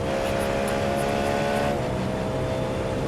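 A Porsche race car engine in a racing sim, a loud steady harmonic drone holding a sustained pitch, then dropping slightly partway through as the revs shift.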